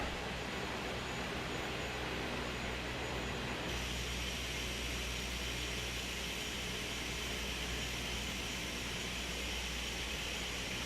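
A steady, droning aircraft engine sound plays during a takeoff roll in Microsoft Flight Simulator, continuous and fairly loud, with no voices.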